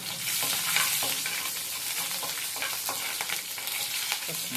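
Chillies frying in hot oil in a pan, a bright close sizzle with frequent scraping stirs of a spoon in an uneven rhythm.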